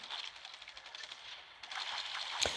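Gunfire from The Walking Dead: No Man's Land video game, a rapid, steady stream of crackling shots rattling through the game's mix, ending in one sharp louder report near the close.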